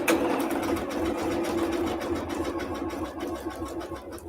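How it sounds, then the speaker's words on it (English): Steady close sewing machine stitching along a fabric edge runs continuously and loudly for several seconds with a constant motor hum and rapid needle rhythm, no talking. "put my foot down, and we are going to sew as we go"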